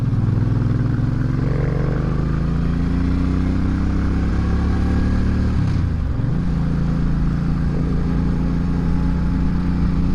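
Suzuki Intruder V800 motorcycle on a test ride, its engine droning steadily under rising and falling revs with a brief dip mid-ride, heard close and loud with wind rush and no talking.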